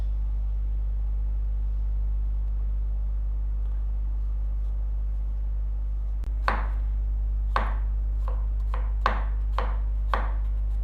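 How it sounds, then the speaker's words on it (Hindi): A knife chops an onion on a cutting board for an omelette sandwich. After a quiet stretch, about six or seven sharp, close strikes come at an uneven pace over a constant low hum. "एक टमाटर लिया है, एक प्याज, 2 हरी मिर्चें। इनको काट लेते हैं।"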